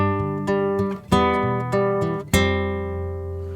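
A guitar played fingerstyle runs through a variation on a song's intro, plucked single notes and chords ringing together in an unhurried pattern, close and bright, with no one talking.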